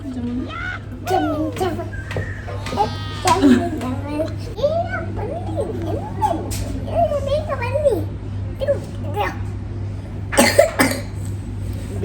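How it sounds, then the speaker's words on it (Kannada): A young girl with a persistent cough chatters and breaks into a few short, sharp coughs, close by, scattered through the talking. "ಅವಳ ಕೆಮ್ಮು ಕಮ್ಮಿ ಆಗ್ತಾನೇ ಇಲ್ಲ"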